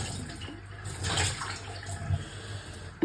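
Water gushes steadily from a tap into a sink or tub in a Kyiv home, a close, continuous splashing rush with a faint clatter near the end.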